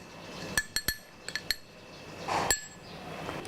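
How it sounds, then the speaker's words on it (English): A spoon clinks against a bowl while palm sugar, salt and shrimp paste are mixed, giving a handful of sharp, close metallic taps in an uneven rhythm, followed by softer scraping. "now I'm going to mix the palm sugar, salt, and shrimp paste"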